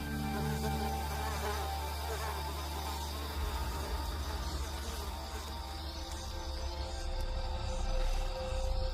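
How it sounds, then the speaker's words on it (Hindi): A dense, continuous whine of mosquitoes buzzing in a tropical South American setting, several insects droning together at close range with a steady, slightly wavering pitch and a low hum beneath. "सभी ट्रॉपिकल इलाकों में मच्छर एक बहुत बड़ी समस्या है।"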